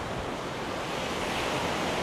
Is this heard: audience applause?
no